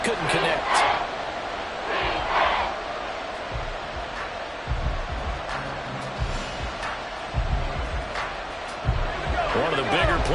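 Stadium crowd in a football video game, a broad cheering roar that swells and ebbs beneath a commentator's ongoing play-by-play.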